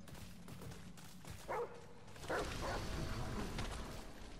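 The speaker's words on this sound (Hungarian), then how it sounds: "Ja, ez a kutya." Dog barking in the video game Remnant: From the Ashes, two short yelps heard over a steady game background.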